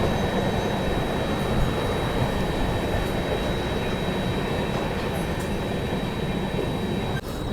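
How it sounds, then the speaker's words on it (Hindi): A Vande Bharat Express from Varanasi to Ranchi, just departed Deen Dayal Upadhyaya Junction, approaches along a line busy with locomotives, heard as a steady, broad rumble of wheels and rails with a faint high whine, no voices. "अभी देखो सामने से ये आ रही है वाराणसी से रांची जाने वाली वंदे भारत एक्सप्रेस"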